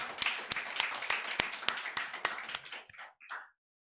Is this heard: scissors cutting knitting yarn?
no